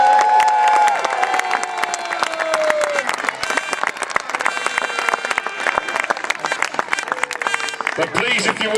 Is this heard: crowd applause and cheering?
yes